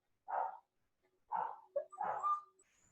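Dogs at a home bark in a few separate bursts, a single bark, a pause, then a quick cluster of barks, moderately close with quiet gaps between.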